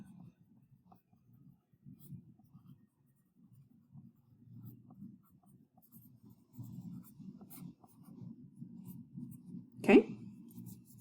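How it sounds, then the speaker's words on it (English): A pear being drawn in line-drawing practice, with soft, steady scratchy strokes close by and one sharper tap or scrape near the end; no talking. "I'm going to just draw this pear, kind of break down those shapes, and come back, draw that in."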